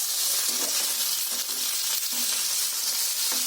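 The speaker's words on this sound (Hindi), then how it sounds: "कांदा टमाटर फ्राई करूंगी।" Onion and tomato frying in oil for an Odia-style masala, a steady close sizzle with faint soft stirring scrapes over it and no talk.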